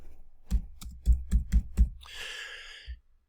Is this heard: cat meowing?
no